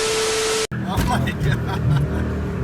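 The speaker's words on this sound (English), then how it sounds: "I brake boosted and it started spinning" Supercharged Mercedes CL55 AMG held on the brakes while its wheels spin, a loud steady engine roar cut by a brief dropout, then a rough rumble with voices over it.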